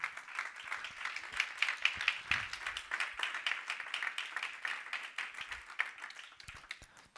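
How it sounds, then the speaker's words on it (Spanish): A church congregation claps rhythmically and steadily, the faint patter of many hands continuing evenly, with low voices murmuring underneath. "Pues dale palmas si te hizo libre, pues."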